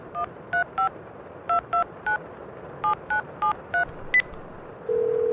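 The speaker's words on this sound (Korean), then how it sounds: "건물주는 그 한마디와 함께 어디론가 전화를 걸었다." Telephone keypad dialing tones, a quick series of about a dozen separate clear beeps in uneven groups, then a steady dial tone starting at the end. No voices.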